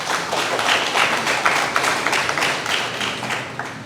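An audience at a graduation ceremony applauds a teacher with sustained, dense clapping from many hands. The clapping stays steady and fairly loud, with sharper claps standing out here and there.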